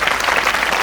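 Students at a school career seminar break into loud, sustained applause to welcome a guest speaker, a dense wash of many hands clapping close by with no break.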